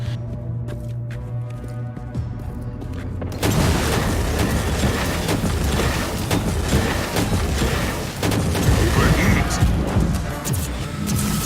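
A weapon fires in Warhammer 40,000: Inquisitor - Martyr. A quieter stretch gives way to a dense, continuous barrage of booming shots and crashing impacts that stays loud to the end.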